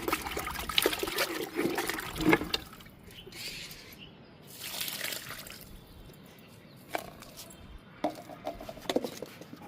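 Liquid fertilizer is poured onto a large lemon plant, a faint uneven trickle and dribble that swells and fades in several bursts.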